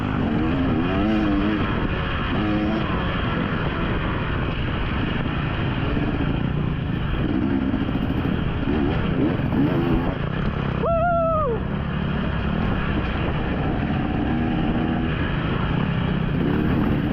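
Motorcycle engines droning continuously during an off-road race, with worn tires on a rough section, loud and steady, with one engine revving sharply up and down midway.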